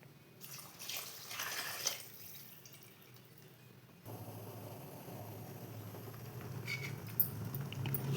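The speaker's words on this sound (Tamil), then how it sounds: "அந்த தண்ணியை வந்து இதில் ஊற்றிக்கலாம்." Soaking water from rice being poured into a cooking pot of mixed masala for vegetable rice, a close steady pouring and splashing wash that grows fuller partway through, with no talking.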